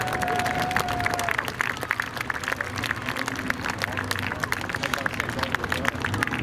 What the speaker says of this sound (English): Round of applause for Mike Vincent.